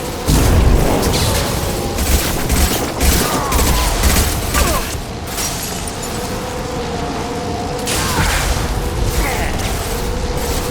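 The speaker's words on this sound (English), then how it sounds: "Watch out, flashbang!" A flashbang going off in a firefight in the video game Mass Effect 2, loud booming bursts and rattling gunfire under a dense, continuous battle din.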